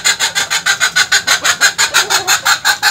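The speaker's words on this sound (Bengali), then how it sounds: "এই মুরগি চিল্লাচ্ছে।" A Sonali chicken clucks loudly and close, a rapid regular series of about fifteen harsh, rasping calls repeating evenly for the whole stretch, with no talking.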